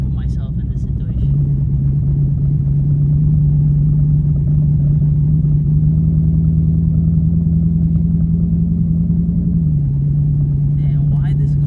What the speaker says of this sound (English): why this car is running like crap like this? It seems to me it's running like in 2 cylinders